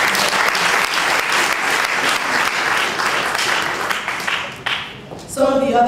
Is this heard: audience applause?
yes